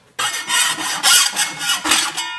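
A file rasps against a homemade hoe blade clamped in a vise, sharpening one side. About five rough strokes sound close and loud, one after another, with short gaps between them.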